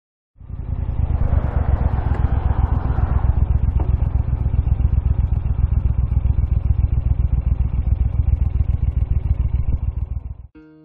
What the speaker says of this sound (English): This again was just a short ride, to get the oil warm on the Eldorado